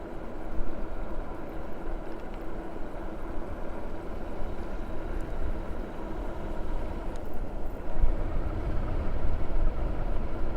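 A Jansno X60 dual-motor ebike cruising on throttle gives a steady low rumble of motor and road or wind noise, continuous and fairly loud throughout, with a slight surge near the end.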